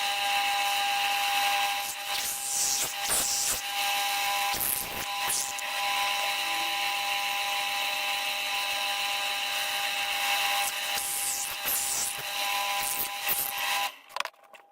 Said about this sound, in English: I'm going to drill a 7mm hole here